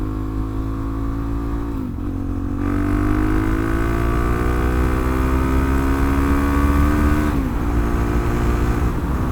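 Supermoto motorcycle engine revving steadily up close, a loud buzzing drone that climbs gradually in pitch, with brief dips near the start and end as the throttle is blipped.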